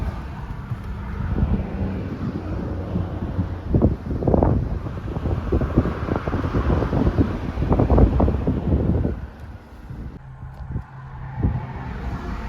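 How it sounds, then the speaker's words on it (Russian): Strong wind roars through a car's wide-open windows during a road trip in traffic near the Crimean Bridge, a loud buffeting rumble that swells and gusts, easing briefly near the end. "открыли настежь окна. Хорошо, что ветер очень сильный."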